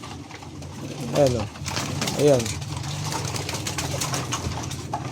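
Pigeons in a fancier's loft give two throaty, rolling coos about a second apart, close and fairly loud, over steady background murmur while someone talks.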